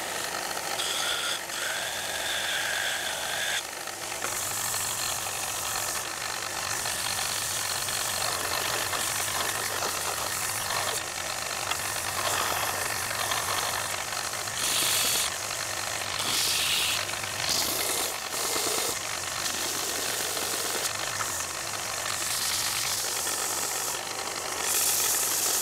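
A belt sander strips the old finish from oak desk door handles on a 1930s desk, a loud, sustained gritty roar with rasping, shifting texture as the handle is worked against the belt, with no talking.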